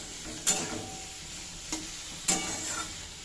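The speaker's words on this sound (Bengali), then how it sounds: "এই যে এখনও কষাতে হচ্ছে, বললামই তো অনেকক্ষণ সময় লাগে এটা কষাতে ভালো করে" Curry sautéing in a pan with salt and turmeric, a soft steady sizzle broken by three brief scraping stirs, close by with no talking.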